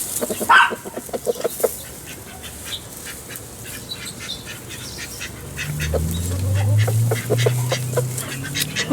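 Backyard chickens cluck and call as they scratch through and knock down a pile of material, the sharp bird calls scattered over a low, steadily rising rumble of rustling and background noise.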